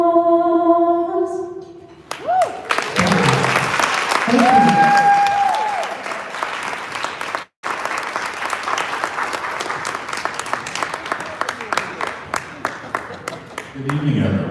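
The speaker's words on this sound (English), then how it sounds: "Give yourself some applause, applause, applause." A crowd at a women's celebration event breaks into loud, sustained applause with cheers and whoops, following a sung or held tone. The clapping continues densely and close, with voices over it.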